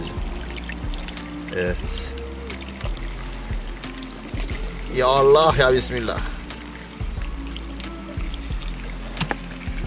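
Water is poured to fill a container while mixing a liquid mite treatment for chickens, a continuous pouring stream under people talking, with a brief splashy, gurgling swell near the middle.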